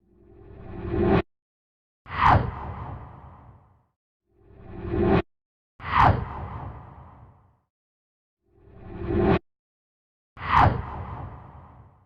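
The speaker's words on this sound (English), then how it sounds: "Let's go ahead and listen to the unprocessed whooshes that are currently cut into place." Unprocessed whoosh sound effects play back in a Pro Tools session: six swooshes in three evenly spaced pairs, each pair a swelling rush cut off abruptly, then a sharp hit that trails away, with silence between.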